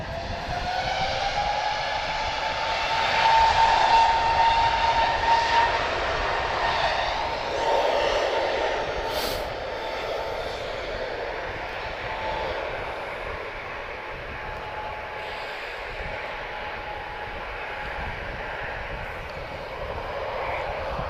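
A TAP Airbus A321neo long-range jet departs Lisbon Airport for Funchal, its engine roar swelling to a broad rumble with a whining tone before slowly fading into distant noise.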